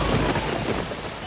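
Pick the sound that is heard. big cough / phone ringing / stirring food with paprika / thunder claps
thunder claps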